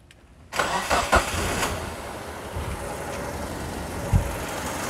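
A Mitsubishi Kuda petrol engine cranks briefly and catches, then settles into a steady idle with a few small revving bumps, close and loud with no talking.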